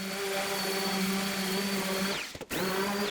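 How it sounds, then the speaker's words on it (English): A power sander smoothing the sharp edges of a wooden workshop bench gives a steady, loud motor whine that briefly drops and stutters before spinning back up. "Sharp edges are a bummer, so we'll knock those down really quickly with the sander."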